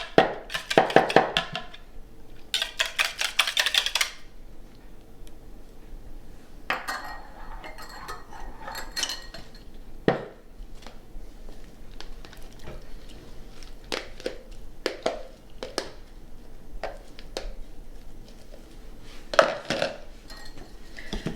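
Zucchini bread batter with oil and vanilla is stirred in a bowl, giving loud clinks and scrapes of utensil against the bowl at the start and then scattered softer taps and clatters, close by.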